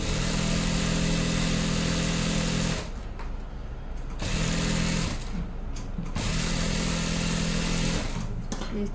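A sewing machine top-stitches a pant pocket, its motor whirring in a steady run that stops briefly twice and then resumes, with no talking.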